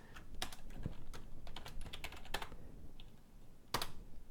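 Typing on a computer keyboard during PowerShell work: irregular bursts of crisp key clicks, a quick cluster early, scattered single presses, then a louder pair of strokes near the end, close and alone.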